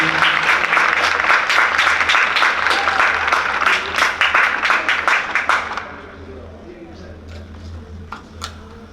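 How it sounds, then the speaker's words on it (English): An audience at a parent appreciation night breaks into loud, dense applause that fades after about six seconds into scattered claps, with faint murmuring beneath. "Let's give them another round of applause."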